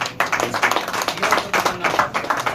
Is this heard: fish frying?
no